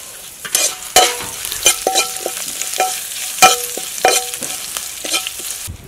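Crushed garlic cloves with three dried red chillies sizzle and fry in a pan for a tomato sesame chutney, with a steady crackle broken by repeated close spoon stirs and scrapes, no voices.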